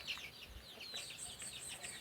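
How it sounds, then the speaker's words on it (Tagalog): A pet chicken on a farm gives a few soft, fairly faint clucks and chirps over a quiet outdoor background. "ating alagang manok"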